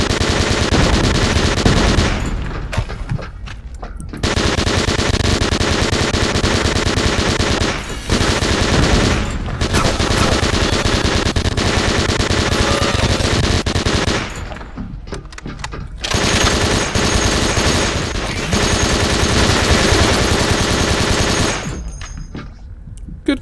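Rapid-fire gunfire in the shooter video game Bedlam, loud continuous machine-gun bursts lasting several seconds each, broken by short pauses, with no talking.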